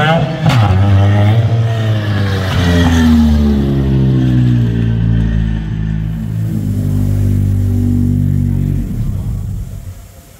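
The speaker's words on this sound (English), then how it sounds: "This car sounds really good to me, and it looks like a lot of fun to drive." An old stock car engine revs loud and close, a sharp rising roar that settles into a deep, steady rumble before trailing off, with no talking over it.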